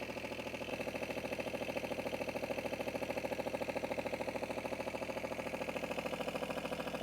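A John Deere 2653A mower engine idles while warming up, a steady rapid mechanical chug with an even pulsing rhythm, close and unbroken throughout.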